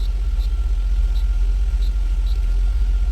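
Older car engine idling with the ignition on while a scanner reads the ECU: a steady low rumble throughout, close and fairly loud, with faint regular ticks riding on top and no voices.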